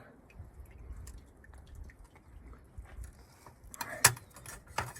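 Water drips and trickles from a pressed dispenser in faint irregular drops, close by, with a few sharper plinks and clicks near the end and no talking.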